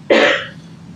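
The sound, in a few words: loud cough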